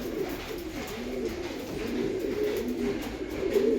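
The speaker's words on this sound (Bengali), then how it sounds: "এই যে সব পায়রাগুলোকে ছেড়ে দিলাম" Pigeons just let out of their coop coo softly and repeatedly, several overlapping low warbling calls close by over a quiet background.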